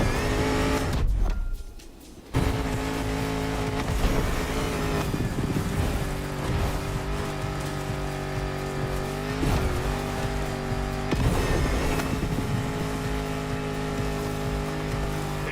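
Engine of a 400-horsepower Defender in The Crew Motorfest, loud and continuous as it revs and accelerates, with tire squeal and shifts in pitch through corners after a brief drop near the start.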